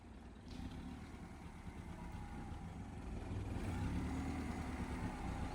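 A car engine idles low and steady while the car reverses slowly through a narrow lane, the rumble swelling slightly toward the end with no speech.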